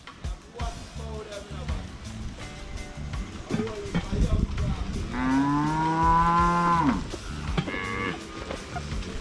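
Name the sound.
cow mooing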